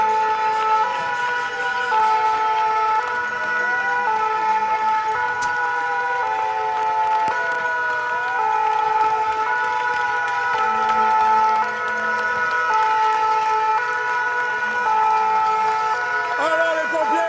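Wailing sirens from fire engines at the Fontvieille fire station in Monaco, rising and falling sweeps layered over one another, loud and steady throughout with faint voices underneath.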